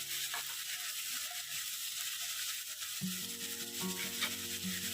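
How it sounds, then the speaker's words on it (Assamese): Fiddlehead fern greens fry in oil with a steady broadband sizzle, interrupted by stirring and scraping; a low tonal hum comes in partway through. "এইখিনি মই অলপ সময় তেলত ভাজি লওঁ।"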